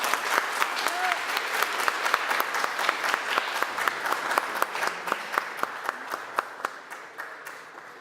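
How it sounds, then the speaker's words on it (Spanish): Audience at a lecture on piano composition styles applauds to welcome a speaker, a dense crowd clapping that thins into sharper individual claps as it gradually fades. "Vamos a recibir a Edgar Isaac con un fuerte aplauso, deseándole todo lo mejor"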